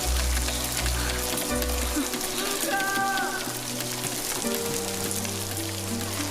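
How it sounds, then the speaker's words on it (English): Steady rain patter from the animated film Luca, a continuous hissing wash under swelling orchestral music, with no voices. "Afraid of a little rain?"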